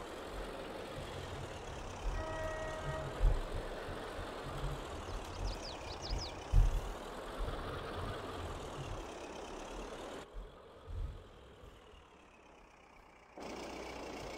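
Tractor engine in the Farming Simulator 22 video game running steadily, a continuous low rumble with some revving swells, then dropping briefly quieter before resuming.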